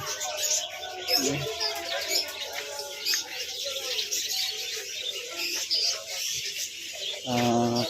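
A dense chorus of small caged birds chirps and twitters without pause at bird shops in Khilgaon's kacha bazar, with a brief voice near the end.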